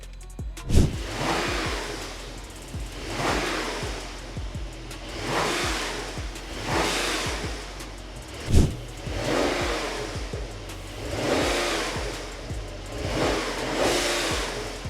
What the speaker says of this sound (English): I'm going to rev it just for the camera for you to see how the stock exhaust sounds